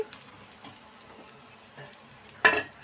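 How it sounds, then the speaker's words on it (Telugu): Something fries in a pan for buttermilk curry (majjiga pulusu), a faint steady sizzle running throughout, with a louder burst of stirring or spattering near the end. "ఇప్పుడు వేగినాయి కదా, మనకి ఇలాగ వేగితే సరిపోద్ది"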